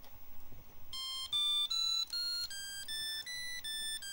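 Electronic melody notes from a PICAXE 20M2 microcontroller keyboard, played through a loudspeaker with a series capacitor: a run of clear, steady beeping tones stepping in pitch, fairly loud and close, with no talking.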